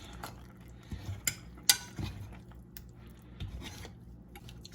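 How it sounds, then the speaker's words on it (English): Very soft avocado being mashed in a bowl, quiet squishy presses and a few sharper utensil clicks against the dish, close and intermittent. "More mashing."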